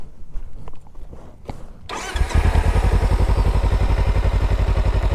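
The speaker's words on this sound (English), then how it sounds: "I'll make you hear the exhaust." A Kawasaki Ninja 300 two-cylinder motorcycle engine cranks and starts, then settles into a loud, rhythmic exhaust idle with a steady, throbbing pulse close by.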